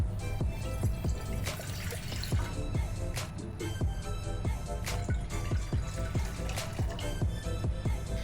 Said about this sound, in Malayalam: ഇതിലോട്ട് 2 കപ്പ് വെള്ളം ഒഴിച്ച് കൊടുക്കാം.